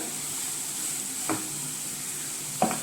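Pumpkin leaf stir-fry (thoran) fries in a pan on a low flame with a steady soft sizzle, broken by two short scraping stirs of the spoon.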